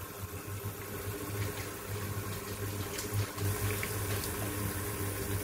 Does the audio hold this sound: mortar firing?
no